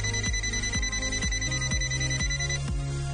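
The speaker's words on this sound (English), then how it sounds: "NCV non-contact sensing, beeps when voltage is sensed." An ANENG 616 digital multimeter in non-contact voltage sensing mode gives a rapid, evenly spaced beeping pulse, roughly two beeps per second, over a constant electronic tone.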